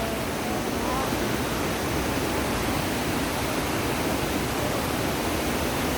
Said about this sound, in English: And one last look at the waterfall again.